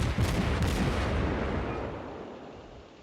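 Heavy naval guns on the battleship New York boom in World of Warships, a couple of deep overlapping blasts at the start followed by a long rumbling decay that fades away.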